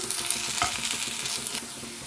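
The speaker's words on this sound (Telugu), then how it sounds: "ఈ ఉల్లిపాయ ముక్కలు బంగారు రంగు వచ్చేంత వరకు కూడా వేయించుకోవాలి" Onion pieces frying in oil until golden, a brief close hiss with a couple of stirring scrapes, no voices.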